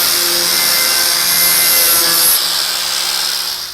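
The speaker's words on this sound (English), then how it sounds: "I'm gonna use a blending wheel and clean up the cut just a little bit to get rid of the sharp spots" A blending wheel grinds against the cut edge of a Toyota Tacoma bedside, a loud continuous abrasive whir with a high whine, steady for several seconds before trailing off slightly.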